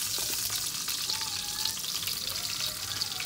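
Garlic and bell pepper fry for a family spaghetti dish in a steady, crackling sizzle with scattered pops and light stirring throughout, fairly close and with no talk over it.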